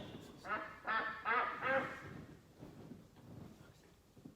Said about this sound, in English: Duck. Duck. Quack, quack.